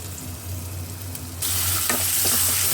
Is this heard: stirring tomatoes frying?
yes